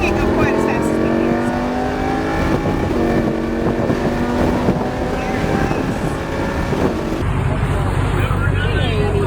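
A Lamborghini Huracan on a race track revs hard with a loud, climbing engine note that rises through gears, joined later by a sudden burst of wind rush.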